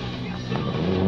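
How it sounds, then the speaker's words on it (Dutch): Ken Block's rally car revs hard during a gymkhana driving demonstration at a DIRT3 event in London in 2011, a loud, continuous engine roar that swells slightly toward the end. "vandaag laat Ken Blok zien hoe je auto moet rijden"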